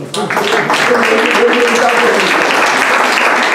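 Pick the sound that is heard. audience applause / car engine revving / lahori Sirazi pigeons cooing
audience applause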